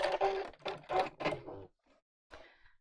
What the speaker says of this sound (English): I'm just going to top stitch all around the edge.